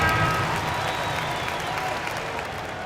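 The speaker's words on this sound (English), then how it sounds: "let's give some applause for you" Steady applause from a basketball arena crowd at a Celtics versus Hornets game, fairly loud and continuous throughout, with a faint tone running underneath.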